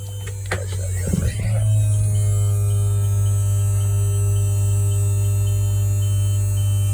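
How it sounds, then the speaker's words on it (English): Hydraulic levelling jacks on an Affinity 550 caravan: a steady, loud electric motor hum and drone after a few clunks at the start, running evenly throughout. "And then it'll do the two jacks that are actually on the axle."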